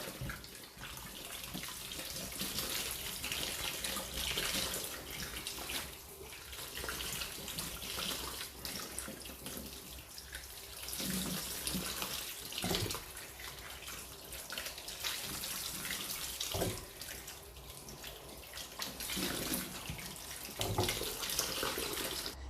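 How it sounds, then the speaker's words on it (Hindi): Warm tap water runs steadily into a sink throughout, with splashing and occasional knocks as bitter gourds are rinsed under the stream. "मैं इन्हें गर्म पानी से धो रहा हूँ"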